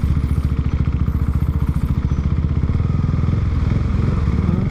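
An older motorcycle engine running steadily close by, a loud, even low-pitched putter with fast regular pulses that holds throughout without revving, and no talking.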